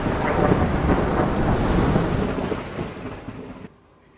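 A heavy monsoon thunderstorm pours down over Gujarat, with a dense, loud roar of rain and rumbling thunder. It eases off toward the end and then cuts out abruptly.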